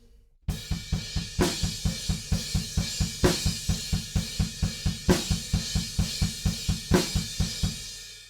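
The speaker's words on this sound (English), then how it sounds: "quarter notes on the crash cymbal," A drum kit plays a steady halftime groove: driving eighth-note kick pulses, a snare crack every few beats, and bright quarter-note crash cymbal hits ringing over the top.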